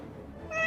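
A cat gives a short, close meow that rises at the end, heard alone without any voices.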